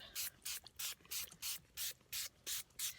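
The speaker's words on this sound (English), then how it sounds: "it doesn't matter that I'm spraying on top of the paint" Spray bottle misting alcohol ink over paint in a mixed-media piece, about ten quick hissing bursts in an even rhythm, close and clear with no voices.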